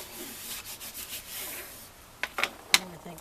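A tool rubs paper down firmly onto a page of a scrapbook album, a close, soft scraping and brushing in irregular strokes, ending with a few sharper crinkles and taps.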